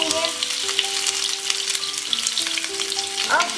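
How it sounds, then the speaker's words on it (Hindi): Potatoes fry in hot oil, a close, dense sizzling hiss that holds steady throughout, with faint ringing tones from the pan and a brief clatter near the end. "आलू को फ्राई करने के लिए हम डाल देंगे और आलू को हम गोल्डन होने तक फ्राई करेंगे"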